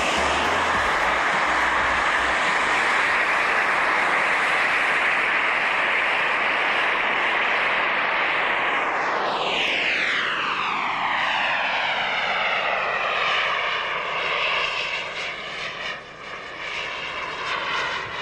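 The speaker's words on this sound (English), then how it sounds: "This seaplane makes an unusual subject for a turbojet installation." A J450 RC turbojet on a model seaplane roars at a 1996 RC air show, its loud, steady whine holding, then sweeping down in a long falling Doppler pass that trails off into a lower, fading drone.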